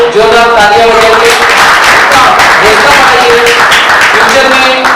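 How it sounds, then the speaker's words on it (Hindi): An audience at a ration kit distribution event for disabled people gives loud applause for Ashish, clapping continuing under a voice talking over a loudspeaker throughout. "आशिष भाई के लिए जोरदार तालियां बजाएंगे"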